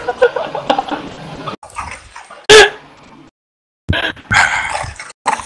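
A dog barks and yips in short sharp bursts, loud and close, mixed with a man's pained exclamations and a gap of near silence in the middle.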